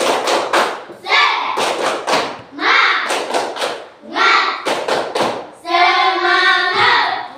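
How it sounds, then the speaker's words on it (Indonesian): A group of children performs tepuk semangat, a rhythmic Indonesian clapping chant, with loud sharp claps in quick patterned bursts between shouted chant phrases, close and energetic. "Coba dulu tepuk semangat."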